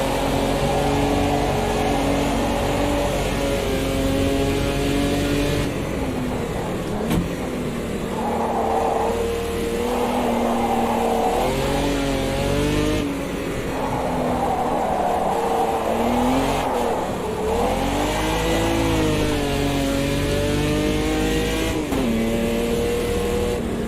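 A race car engine in the sim racing game Automobilista 2 revs loudly and continuously, its pitch rising and falling through gear changes, with a gurgling exhaust tone and no voices.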